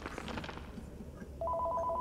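Telephone ringing inside the Accounting Plus virtual reality game on PlayStation VR: a steady two-tone electronic ring starts suddenly partway through, after a stretch of muffled background sound.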